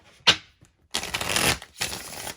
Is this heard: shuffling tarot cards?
yes